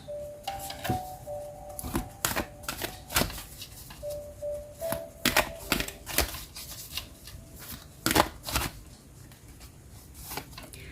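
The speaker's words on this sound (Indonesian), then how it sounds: "sekarang aku coba akan menarik satu kartu dari Angel Answer ya" Oracle cards being shuffled and drawn from an Angel Answer deck, a run of crisp riffling slaps and flicks in uneven bursts, close and fairly loud, with a faint tone in the background.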